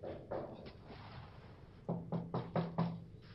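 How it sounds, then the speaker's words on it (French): Knocking on a house door sounds in a quiet room, a few soft raps at first, then a louder quick run of five firm knocks, moderately close and with no voices over it. "Quelqu'un frappe à la porte."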